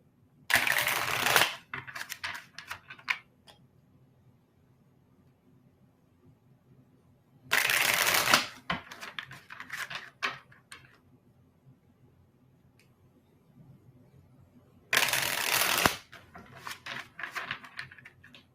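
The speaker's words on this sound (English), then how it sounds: "Anything you want me to think about as I'm shuffling, Jen?" Tarot cards shuffled by hand in three separate bursts of riffling and flicking, each a second or so long, with quiet gaps and a few soft taps between.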